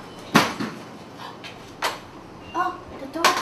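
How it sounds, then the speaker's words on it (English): A door swings shut in a hotel setting, giving a couple of short, sharp knocks and thuds at close range over faint room noise, with people talking nearby. "Oh, the door closed."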